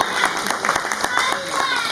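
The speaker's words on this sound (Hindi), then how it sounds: "जोरदार तालियों से इनका स्वागत किया जाए क्षमा जी का।" An audience at a Singapore stage play performance applauds to welcome an actress, a short burst of clapping mixed with a voice speaking over it, fairly loud and close.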